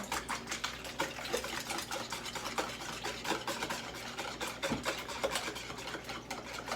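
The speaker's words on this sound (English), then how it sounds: "You whisk them real good, okay? Whisk them thoroughly." Ten eggs whisked in a bowl for a breakfast casserole: quick, rhythmic ticking strokes of the whisk against the bowl, steady and close, with no talking.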